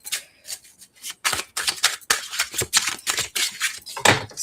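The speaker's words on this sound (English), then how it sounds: "I get to shuffling and cards just get to flying everywhere" Tarot cards are shuffled by hand in a quick run of crisp riffling and slapping bursts with brief gaps between them, close and fairly loud, with no voices.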